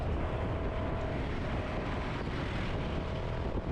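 Motorcycle ride along a road toward Tanza from Trece Martires, a steady engine drone blended with heavy wind buffeting the microphone, continuous and close, with no talking.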